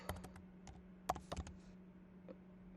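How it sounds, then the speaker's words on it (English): Typing on a computer keyboard, with a handful of soft, close key clicks in an uneven rhythm over a low steady hum. "let me just type."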